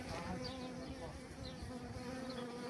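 Honeybees swarm around a newly emerging queen bee in the hive, producing a steady, dense, close buzzing drone that holds throughout with no voices.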